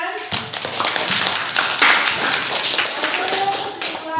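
A classroom of students applauds together, with brisk, dense clapping close by that starts suddenly and carries on for several seconds at an even level, while voices mix in underneath.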